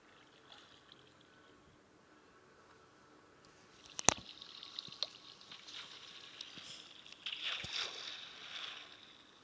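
A Minecraft water whirlpool gurgles and splashes, quiet at first, then a sharp splash followed by a bubbly, churning wash that swells near the end.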